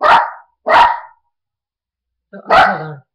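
A dog gives three sharp barks, two close together and a third after a pause of over a second, loud and close with nothing else heard between them.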